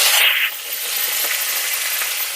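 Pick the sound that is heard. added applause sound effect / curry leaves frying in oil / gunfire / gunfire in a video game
curry leaves frying in oil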